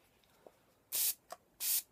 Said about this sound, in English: Spray it with MAC Fix Plus.